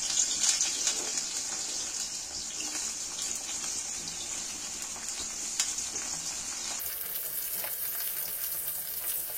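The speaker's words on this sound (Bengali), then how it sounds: "এইবার আমি করলাগুলো তুলে দিচ্ছি তেলের মধ্যে।" Bitter gourd slices fry in hot oil with a loud, bright, continuous crackling sizzle that shifts to a quieter, settled hiss partway through, with occasional faint knocks and no talk.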